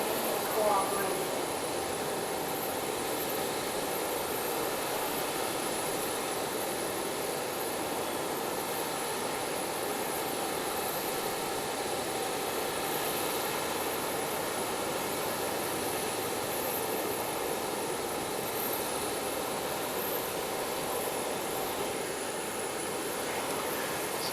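A jet airliner in from Tokyo at Nagasaki Airport gives a steady, even engine roar that holds for the whole stretch at moderate level without rising or fading.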